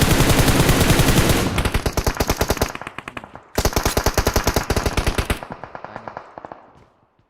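Automatic gunfire in the mobile game PUBG Mobile, loud rapid bursts of machine-gun shots in two long strings separated by a brief gap, trailing off at the end, with a short spoken word over it.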